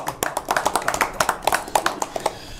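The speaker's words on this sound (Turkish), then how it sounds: "Ben o zaman alkışlamak istiyorum" A few people clap their hands in quick, uneven bursts, close and fairly loud, the claps continuing steadily for a couple of seconds with some talk underneath.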